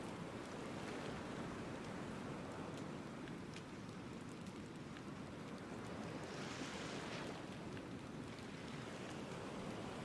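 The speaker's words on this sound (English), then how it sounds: "take in the sound of the waves and nothing else" Ocean waves wash steadily onto a shore in the video game Book of Travels, a continuous soft rushing surf heard alone with no talk.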